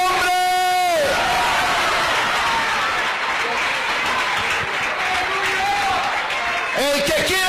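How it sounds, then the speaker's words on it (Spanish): A church congregation applauds and cheers for Christ during an evangelist's sermon, a broad, loud wash of crowd noise with whoops, while a preacher's voice calls out over it at the start and end. "Un aplauso a Cristo,"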